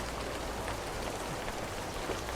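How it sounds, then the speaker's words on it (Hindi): Rain falls steadily at a lakeside resort in Hunza, a soft, even hiss of drops that stays faint and continuous throughout, with no voices. "बारिश चेक कर रहे हैं ना पीछे"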